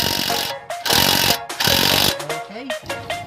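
An impact wrench works a 17 nut under the chassis of a Hyundai Starex, sounding in loud close bursts with brief pauses between them. The work happens during a front-end clunk repair.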